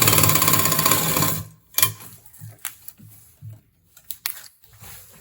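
A sewing machine stitches a zip onto a pair of pants with a dense, loud run of rapid stitching, then stops, leaving a few sparse clicks and taps as the fabric is handled.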